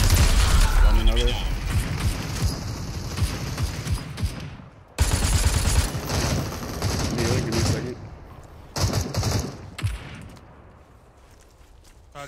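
Gunfire in the battle royale video game Super People, with bursts of rapid automatic shots and single cracks at varying distances, under players talking over voice chat.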